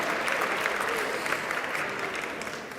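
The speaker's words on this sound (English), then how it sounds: "This will be the first of many rounds of applause for Lynn." An audience claps for Lynn, a board trustee and graduate school alumna, at an introductory ceremony; dense, even applause throughout, slowly tapering toward the end.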